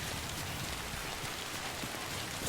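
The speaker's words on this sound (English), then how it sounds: "Let's just run out of this rain now to the nearest exit." Steady, dense rain hiss of timefall in the video game Death Stranding, a continuous broadband patter filling the whole stretch with no talk over it.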